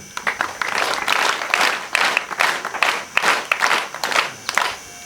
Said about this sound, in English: we clap for the presence of each and every person here